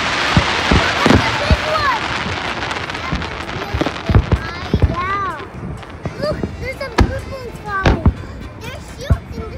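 Fourth of July fireworks at Harbor Island boom and crackle in rapid irregular bursts, loud and nearby, while people talk and exclaim throughout.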